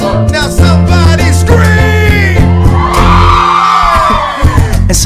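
A concert crowd yells back on cue during a live performance, a loud, sustained roar of shouting voices over pounding music, with a rising whoop-like swell near the end.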